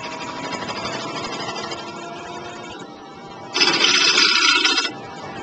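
A wood lathe spins a wing-shaped bowl at close range with a continuous motor hum. Partway through, a tool bites in and raises a loud, harsh cutting rasp that lasts about a second before easing off.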